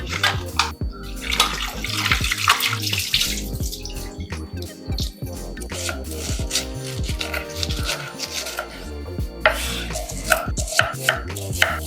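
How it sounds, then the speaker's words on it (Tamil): Running water splashes steadily while chopped quail meat is rubbed and rinsed by hand, with irregular wet handling noises and drips, up close. "இப்போ வந்து நம்ம குட்டி குட்டியாக நறுக்கி வச்சிருக்க காடையை வந்து கழுவி எடுத்துக்கலாம்."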